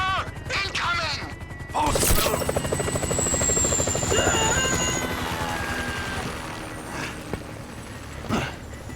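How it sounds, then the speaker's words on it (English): A helicopter approaches in GTA 5, its rotor chop building into a loud rhythmic thrum over game sounds and swelling, then easing toward the end. "Chopper, incoming."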